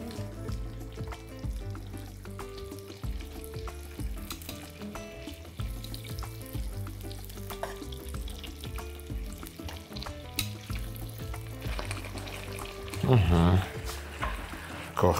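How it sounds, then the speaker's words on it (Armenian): Pieces of beef liver brown on both sides in a hot pan, a steady frying hiss and crackle running beneath a voice and tonal background sound throughout. "որպեսզի տապակվի, կարմրի լյարդը, այսպես քիչ-քիչ, երկու կողմից կարմրացնելու ենք"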